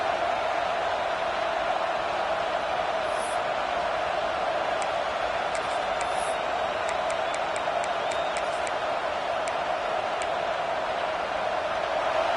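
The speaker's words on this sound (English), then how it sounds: "this crowd is fired up. Listen to this noise here" A football stadium crowd roars and cheers, a dense, continuous wall of distant noise without a break.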